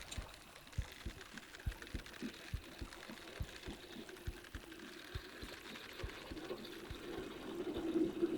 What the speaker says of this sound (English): I got a trophy heartbeat here